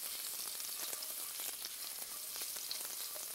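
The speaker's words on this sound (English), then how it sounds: "Let the mustard seeds crack" Mustard seeds crackling in hot oil, a dense, fairly quiet fizzing sizzle peppered with rapid tiny pops, continuous and close with no speech.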